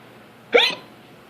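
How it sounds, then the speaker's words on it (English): A single sharp human hiccup, close and fairly loud, standing alone against quiet room tone. "That was a hiccup."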